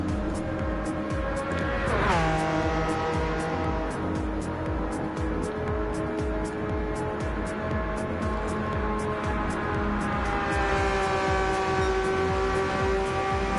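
A Porsche race car laps Daytona, its engine a loud, sustained high-pitched whine with layered harmonics that dips and climbs through a gear change early on, then holds steady at speed.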